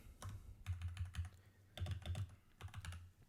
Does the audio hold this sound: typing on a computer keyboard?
yes